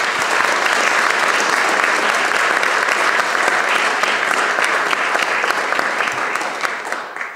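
An audience at an opening-remarks event applauds its keynote speakers with sustained, even clapping from a large crowd, steady throughout and easing slightly at the close.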